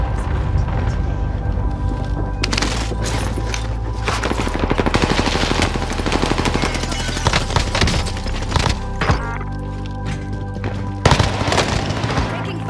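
Dense Warzone gunfire: rapid automatic bursts and single loud shots crowd together over a rumbling backdrop, with sharp cracks and booms scattered throughout and brief lulls between volleys.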